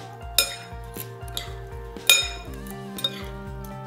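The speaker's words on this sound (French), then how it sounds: "Alors, je mélange le tout." Zucchini, mozzarella and ham are mixed together in a bowl, making a steady rhythm of spoon knocks and clinks against the dish, close and moderate, with a few sharper strikes and no voice.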